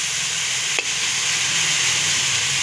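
Vegetables sizzle steadily in a frying pan while being cooked for pasta, a constant close hiss with one brief clink of a utensil partway through.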